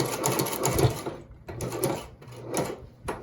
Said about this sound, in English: And you can sew this like that.